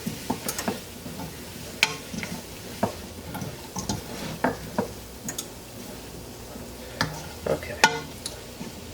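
Spoon stirring four scrubbed yellow-flesh potatoes into a tomato-based, lactose-free clam chowder in a pot, giving soft scraping and clinking strokes in an irregular rhythm over a faint simmering hiss, close by with no talking.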